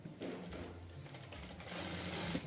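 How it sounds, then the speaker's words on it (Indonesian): A sewing machine stitches the seam of an A-line gamis skirt with an elastic waistband, a continuous close mechanical whir that runs steadily throughout. "Ini sepertinya kurang pas. Jahit lagi sedikit,"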